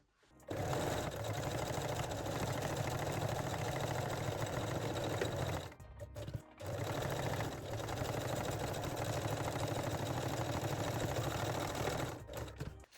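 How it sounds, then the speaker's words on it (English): A sewing machine runs a small zigzag stitch along the edges of a sports bra, producing a steady, rapid mechanical whir. It runs in two continuous stretches, stopping briefly midway and at the end, close and clear. "And secure the edges with small zigzag stitch."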